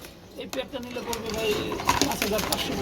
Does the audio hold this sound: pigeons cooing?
yes